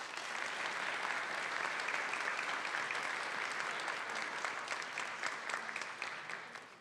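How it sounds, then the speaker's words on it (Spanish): An audience at a public forum on social security and health applauds a speaker, a steady, even patter of many hands clapping, moderately distant and sustained before easing off at the end. "Un fuerte aplauso para ella."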